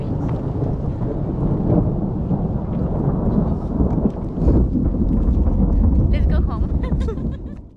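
A long, deep rumble of thunder rolls through during a thunderstorm in the Algarve, Portugal, loud and boomy, with some wind buffeting the microphone and light rain noise.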